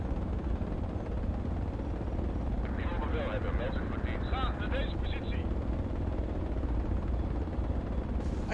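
Transport helicopter in the Project Reality combat game, a steady loud rotor and turbine drone running throughout with continuous low thumping, while players talk over it.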